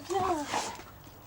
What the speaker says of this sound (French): Après je le fais aboyer vu qu'il me proposait.